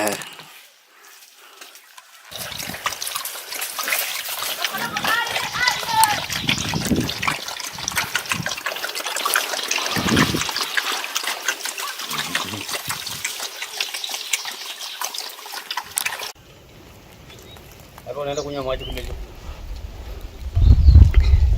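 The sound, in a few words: water trickling at a natural spring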